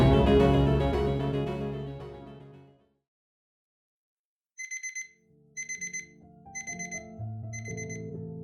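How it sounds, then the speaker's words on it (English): An alarm clock goes off with repeated short, loud electronic beeps in bursts after a pause, joined by a low tonal hum underneath. "41-year-old entrepreneur named Lance Herndon woke up at 3:40 a.m. to the sound of his alarm clock going off"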